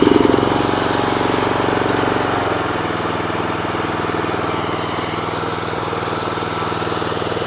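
Hustler Sport 42 zero-turn mower engine running with the choke off, a loud steady close putter that settles from a slightly higher rev to an even idle, without any speech.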